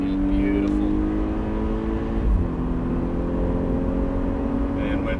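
A Volkswagen car accelerates hard on a driving course, its engine note holding steady and loud with a gear-change dip midway, while an instructor talks over it.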